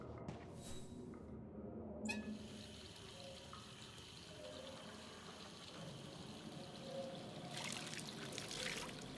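Tap water runs steadily into a basin as a character freshens up in Syberia: The World Before, a continuous trickling wash at moderate level with a brief clatter near the start.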